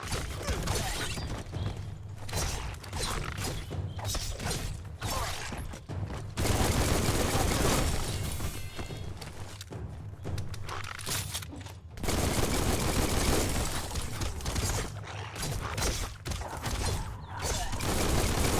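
Gunfire in the video game Biomutant: dense, continuous rapid bursts of shots crackle across the whole stretch, loud and close, pausing briefly between volleys with mechanical clatter in between.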